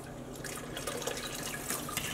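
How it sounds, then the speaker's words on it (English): Water poured onto a pre-wound yarn cake holding dye tablets, a steady close trickle and drip of liquid splashing into a container, continuous and fairly quiet. "I am going to add 2 more cups of water"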